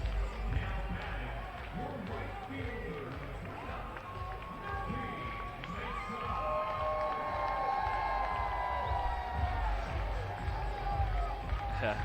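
Baseball crowd at Peoples Bank ballpark in York during a playoff game, fans loudly dancing and cheering along to a song played over the stadium speakers, a steady dense roar of voices with music threaded through.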